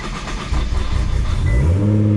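A 800 awhp Nissan GT-R engine cranks and catches, then revs up with a deep, loud, close roar that rises steadily in pitch, with no voices.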